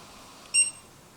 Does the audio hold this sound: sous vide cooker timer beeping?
yes